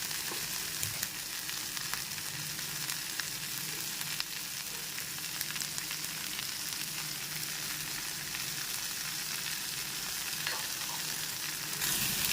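Vegetables fry over a medium gas flame in a pan, a steady, quiet sizzle and crackle with scattered pops, unbroken and with no voices.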